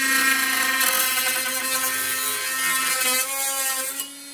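A power saw cuts into a wall to open space for a light switch, giving a steady high whine with strong tonal harmonics that runs for several seconds, loud and close, then drops off near the end.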